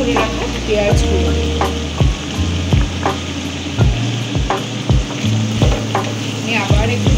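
Cubed onions and slit green chillies fry in a pan for chilli chicken while a spatula stirs them, loud sizzling punctuated by repeated scraping and knocking strokes at an uneven rhythm, close up.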